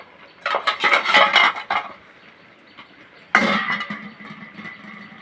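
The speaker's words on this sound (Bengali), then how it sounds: "এবার ঢাকনাটা খুলে দেখবো আলুটা সিদ্ধ হয়ে যাবে।" A metal lid lifted from a pot of boiling potatoes, with two clattering bursts of metal scraping and knocking close by, separated by a quiet pause, the second a sharp clank that rings and trails off.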